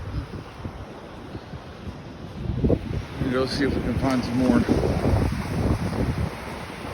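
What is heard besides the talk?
wind and surf at Atlantic Beach, North Carolina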